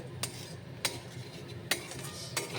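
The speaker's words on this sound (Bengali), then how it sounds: "একে একে পনিরের টুকরো দিয়ে স্বাদ মতন নুন, হলুদ, কাশ্মীরি লঙ্কার গুঁড়ো, জিরে গুঁড়ো দিয়ে ভালো করে নাড়াচাড়া করে" Paneer pieces with salt, turmeric, Kashmiri chilli powder and cumin powder are stirred in oil. A utensil scrapes and clinks against the pan in four sharp, spaced strikes over a faint, quiet background.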